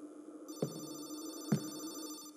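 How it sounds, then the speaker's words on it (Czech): An in-game telephone rings in a horror exploration game, two short repeated rings with a steady electronic tone between them, fairly quiet and heard alone. "Slyším telefon, ale nevidím ho tady, takže blbý."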